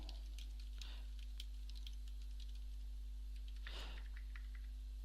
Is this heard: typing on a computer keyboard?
yes